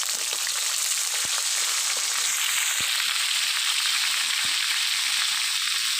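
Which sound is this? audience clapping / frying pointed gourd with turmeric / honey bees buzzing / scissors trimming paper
frying pointed gourd with turmeric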